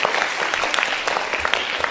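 An audience at a school dance competition applauds the contestants, a dense patter of many hands clapping steadily throughout.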